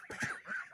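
Geese honking in a farmyard among ducks, two short nasal honks close by, fairly loud with no one talking.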